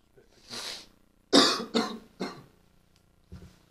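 A person coughs several times in quick succession, close by, with a brief throaty sound at the start and a softer cough trailing after a pause.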